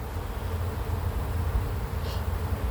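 Riled-up honeybees buzz around a backyard hive in a dense, continuous drone that holds steady and fairly loud throughout, with no voices.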